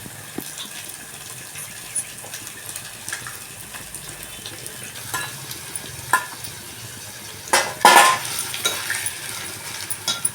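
Fish frying in a hot pan gives a continuous soft sizzle with occasional stirring clinks and a louder burst of scraping and bubbling partway through, and no voices.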